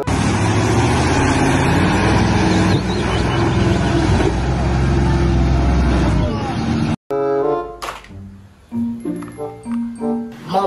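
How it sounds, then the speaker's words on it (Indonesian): A tanker truck engine rumbles steadily and loudly for about seven seconds, then cuts off abruptly and gives way to bright musical tones. "Mobil truk tangki."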